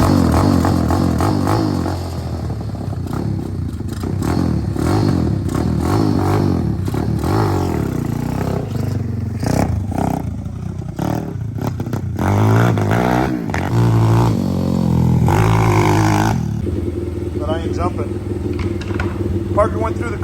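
A mini trike built on a Typhoon 125 frame with a BW80 front end and an Orion 190 engine runs loud and close on a test ride, its revs rising and falling, while people talk over it.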